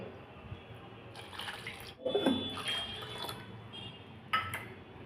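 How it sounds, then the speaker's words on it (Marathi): Water poured from a small bowl into washed dal for cooking, heard as a couple of close splashing pours with gurgling between quieter pauses, no talk. "या वाटीने आपण दोन वाट्या पाणी घालूया"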